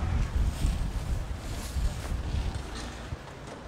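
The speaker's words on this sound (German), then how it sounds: "Leider windet es so." Gusty wind buffets a microphone outdoors, a loud low rumble that swells and dips in irregular bursts for a few seconds, with no voices.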